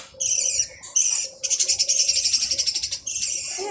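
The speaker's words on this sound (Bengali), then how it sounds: "পাখিগুলো" Birds call close by in a series of high chirps and trills, with one fast pulsing rattling call in the middle, and no talk.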